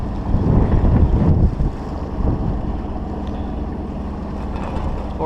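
Wind at about 14 knots buffets the microphone on a boat, a loud, gusty rumble strongest at the start and then a steady blustery rush, with water faintly audible beneath.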